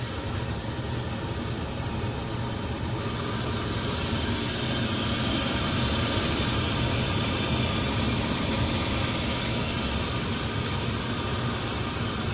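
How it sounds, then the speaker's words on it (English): An outdoor air conditioner compressor runs after kicking on, giving a steady, loud broadband hum and whoosh with a faint extra noise and no pauses. "All right, I just heard the compressor kick on outside."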